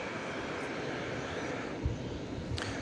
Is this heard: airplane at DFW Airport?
yes